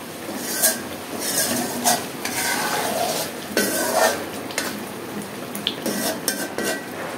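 Mustard hilsa curry with ground green chillies being stirred in a pan, a steady run of scraping spoon strokes and clinks against metal over a soft sizzle, close and continuous with no talking.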